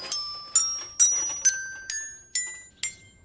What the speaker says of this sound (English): Hey, Dina, I'm gonna ding the bell on my Zoe-mobile